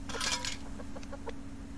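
A hen clucks in the survival game Subsistence during an ice-fishing session, a few short close clucks over a steady low game hum.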